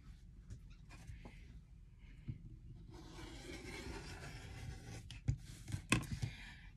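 A rotary or blade cutter slices fabric strips for a barnyard-themed quilt block. It makes a faint, soft scraping rasp over a few seconds, with small taps and clicks toward the end.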